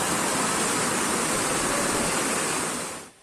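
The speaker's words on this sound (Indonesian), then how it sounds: "Seperti inilah kondisi Sungai Kalilo yang meluap setelah wilayah Banyuwangi, Jawa Timur diguyur hujan deras lebih dari 1 jam Jumat sore" Overflowing Kalilo River in Banyuwangi, East Java, after heavy rain, a dense roaring rush of floodwater, loud and steady, cutting off abruptly at the end.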